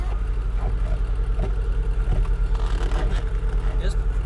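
A ZAZ Tavria engine idles steadily, then revs briefly up and back down during a double declutch, heard from inside the car with a constant low rumble.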